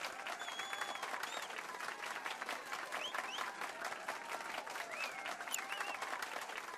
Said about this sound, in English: Now then, let's give our pianist a warm round of applause.